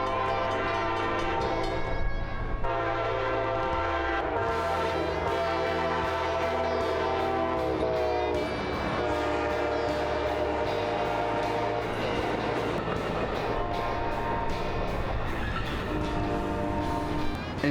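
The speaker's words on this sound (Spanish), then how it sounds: "Estábamos al otro lado, pero escuchamos el tren" A full-size train rolls through Plant City, Florida, loud and close, with long sustained horn blasts sounding over the steady rumble and clatter of the cars for the whole stretch.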